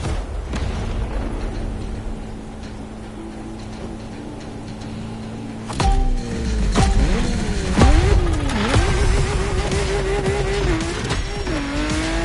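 Lamborghini Murcielago roaring through a Honolulu street race in The Crew Motorfest, a loud steady engine drone that surges with revving shifts and tire squeal partway through, close and continuous.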